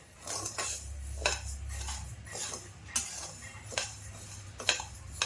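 A metal spoon scrapes and clinks against a pan in irregular strokes, steady stirring of dry rice being roasted, fairly quiet with a low hum beneath.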